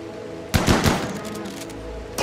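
A shotgun blast in the video game Rimworld, one sharp loud shot followed by a second close burst, then a trailing rumble and quieter battle ambience.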